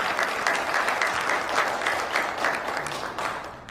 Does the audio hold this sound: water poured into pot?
no